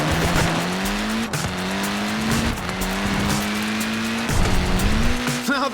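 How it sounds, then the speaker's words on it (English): Tyres of a Mini squealing in the video game Forza Horizon 4, a sustained wavering screech over a revving engine, with several bumps and shifts as the car slides. "Look at that, laying down some rubber there."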